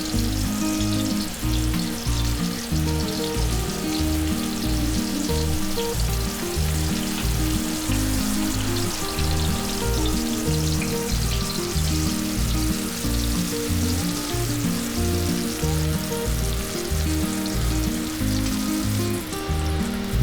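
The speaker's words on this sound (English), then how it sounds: "And simply fry the fish until it is nice and golden brown." Pomfret fish coated in recheado masala fries in a pan over a medium-low flame, giving a constant loud, close sizzle and crackle that lasts throughout with no talk.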